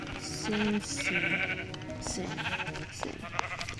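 Sheep bleat in the Minecraft video game, a couple of clear, wavering baa calls up close, followed by softer game noises and some background voice activity.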